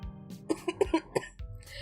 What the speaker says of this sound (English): I'm gonna have a coughing fit